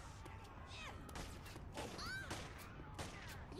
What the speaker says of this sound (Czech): tady se střílí